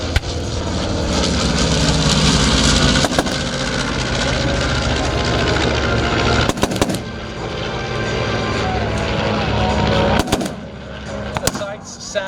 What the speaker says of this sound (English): working its way into the battlefield area of operations, is the M5A1 MPA1 Stuart tank